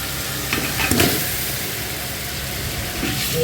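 Meat hits a pan of fried ground spices for khichuri, giving a steady close hiss with a few stirring knocks near the start and a low background hum.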